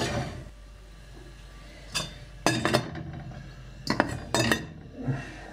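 Tagliatelle is dropped into a pan of boiling water on a home stove, giving a few close metallic clanks and clinks of the pan and utensils over a steady bubbling, hissing background.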